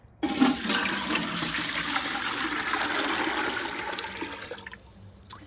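Ceriops tagal natural dye liquid pours steadily into a large pot in a rushing, splashing stream for several seconds, then tapers off into trickles.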